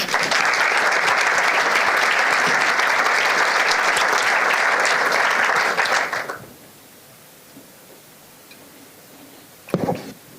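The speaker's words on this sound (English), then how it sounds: "Give them a warm applause." Warm audience applause at a makeathon opening as presenters come on stage: steady, loud clapping for about six seconds that cuts off abruptly into quiet room tone, followed by a short knock or bump near the end.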